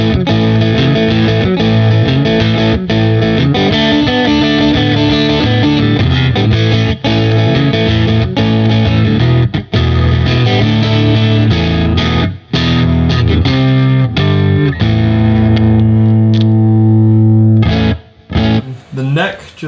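Distorted Stratocaster-style electric guitar with both single-coil pickups fully open chugs and rings through a continuous riff, loud and gritty, ending in a few scattered chord hits before fading.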